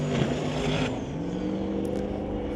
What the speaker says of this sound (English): You can hear them building up the boost and getting ready to see what they can do